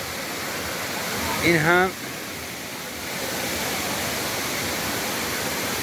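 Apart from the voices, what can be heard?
mossy waterfall about 70 meters wide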